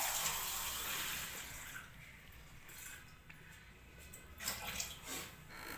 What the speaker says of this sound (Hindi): इसमें पानी डालूंगा मैं तकरीबन 1 गिलास से भी थोड़ा सा कम।